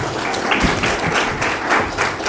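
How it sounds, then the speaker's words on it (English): An audience applauding a speaker at a talk on blood tests for tick-borne disease, a loud, dense wash of clapping from a crowd that fills the whole moment. "Please give a round of applause."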